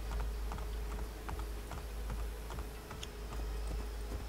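Horse hooves clip-clop in a video game as a faint, steady, regular patter of light knocks over a low background hum.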